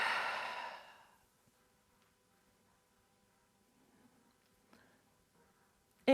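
A long breath exhale during the yoga half-chair pose (Ardha Utkatasana): a soft, airy outbreath that fades out within the first second, followed by near silence with a few faint clicks.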